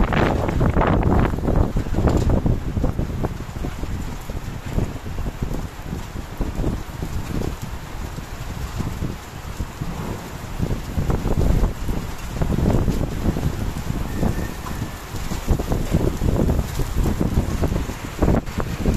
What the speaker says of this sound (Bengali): এই যে গাছপালাগুলো একদম বাতাসে উড়িয়ে নিয়ে যাচ্ছে, আর সেই সাথে বৃষ্টি হচ্ছে